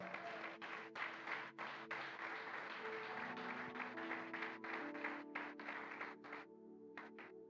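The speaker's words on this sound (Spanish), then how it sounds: "¿Alguien puede aplaudir al Señor?" A church congregation applauds during a sermon, steady rapid clapping heard at a distance with sustained musical tones underneath, thinning out near the end.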